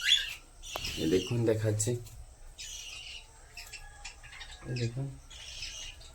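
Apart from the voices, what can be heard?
pet Java sparrows, cockatiels and budgerigars chirping while eating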